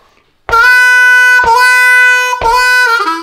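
Harmonica lick number 7 played over the 5 chord, three loud, sustained reedy notes rearticulated in an even rhythm, close and alone, with a falling bend at the end.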